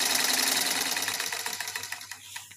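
Sewing machine run by a dynamo foot pedal pressed slowly: a close whirring motor with rapid mechanical ticking that slows and thins toward the end as the stitching rhythm becomes distinct, with no talking.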